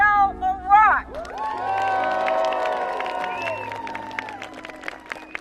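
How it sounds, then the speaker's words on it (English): An enthusiastic crowd at a Beto O'Rourke campaign event in Waterloo, Iowa, cheering with whoops and shouts over sustained clapping, loud and lively, following a brief bit of talk at the start. "O'Rourke drew an enthusiastic crowd in Waterloo"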